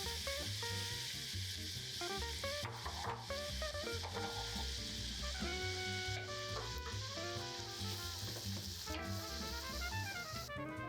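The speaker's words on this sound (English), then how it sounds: "Melt a stick and a half of butter over medium heat until it starts to sing, and then toss in our chopped veggies." Chopped vegetables, including onions, fry over medium heat in a stick and a half of melted butter for shrimp étouffée, giving a steady, close sizzle beneath continuous background music.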